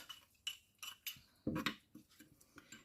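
Salad of tomatoes dressed with lemon juice being mixed in a bowl, with a series of separate clinks and scrapes of utensils against the dish, fairly close and moderately loud.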